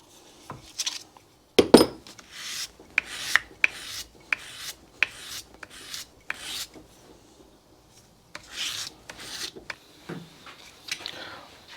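Repeated rough grinding bursts from worn sanding drums, each a second or so long, separated by short pauses, close and fairly loud, with scraping rasp.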